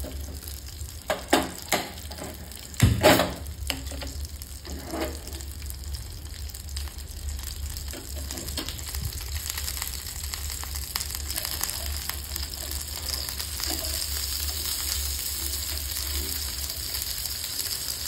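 Fish fingers sizzling in a pan over a gas flame, a steady close frying hiss with a few sharp clatters near the start, and no talking.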